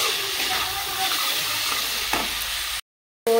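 Ground spices such as cumin and coriander powder being stirred and fried in a pan, a steady close sizzle with stirring scrapes, briefly cut to silence near the end before resuming.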